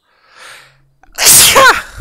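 A single loud, sharp sneeze bursts out after a faint breathy intake, heard close up with no talking around it.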